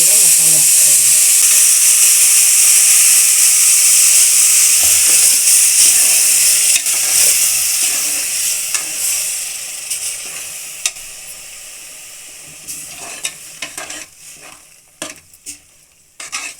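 Freshly ground masala paste hits hot oil in a pan for avarekai (hyacinth bean) sambar, giving a loud, steady sizzle that slowly fades over the clip, with a few stirring clicks near the end.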